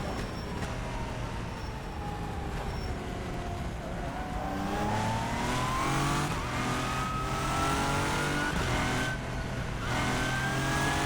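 A hypercar engine in the racing game rFactor 2, revving loudly and continuously with a rising whine as it accelerates through the gears, steady and close for the whole stretch.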